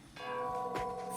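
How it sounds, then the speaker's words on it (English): Bell tower bells ring in the Gollum video game, a faint struck bell with long sustained ringing tones and a second strike partway through, heard alone. "So we've got to ring these bells."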